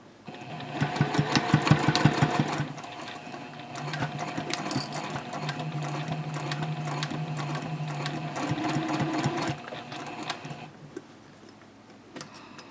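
A sewing machine stitches a seam on a bowler bag at a 2.5 stitch length with a 3/4 inch allowance and backstitching, giving a rapid, close mechanical rattle that speeds up, slows, and runs almost continuously for around ten seconds before stopping.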